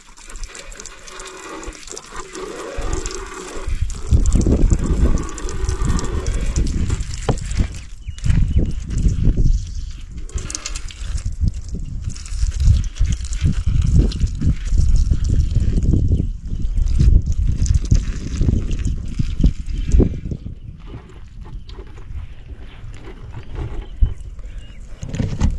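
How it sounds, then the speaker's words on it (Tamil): A high-pressure bike and car washer sprays water in a loud, steady hiss with surging, splashing bursts that run nearly continuously, easing slightly toward the end as the pressure drops. "சூப்பராக வேலை செய்யுது நம்மளுடைய கார் பைக் வாஷர்"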